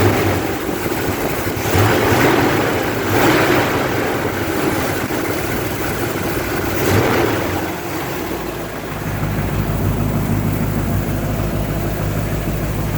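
A 1974 Chevy K10 truck engine idles steadily after a cold start in a shop, a loud, continuous low rumble that shifts to a smoother, lower drone near the end.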